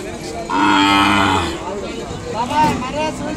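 An Ongole cow lows loudly and close by with one long, drawn-out moo at a busy Kodada bull market, followed by a second shorter call, with faint crowd noise beneath.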